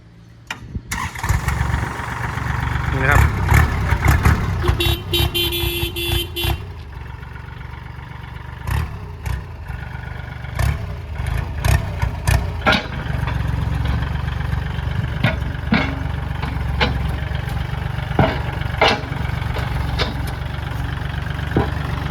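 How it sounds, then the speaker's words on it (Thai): A Kubota L3608 tractor's diesel engine cranks and starts, then settles into a steady rumbling idle with occasional revs, close by and loud throughout. "เดี๋ยวเราไปฟังเสียงเครื่องกันเลยนะครับ"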